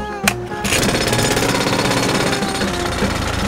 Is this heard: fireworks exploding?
no